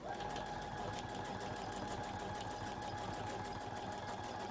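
A sewing machine quilting with a Weightless Quilter support, running at a steady fast stitching hum with a mechanical rattle, continuous and fairly quiet throughout.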